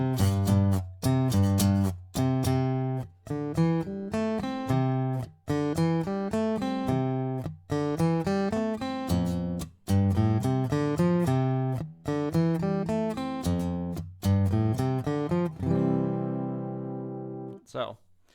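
Electric guitar plays a song, a clear repeating riff of plucked single notes and chords in steady rhythm, loud and close, ending on a ringing sustained chord.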